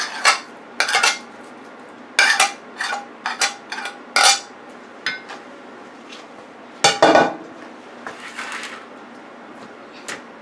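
A 9-inch metal cake pan holding ground turkey and olive oil is handled and set into a Power Air Fryer Oven, giving a string of sharp, close metallic clanks and scrapes at irregular intervals with quiet gaps between.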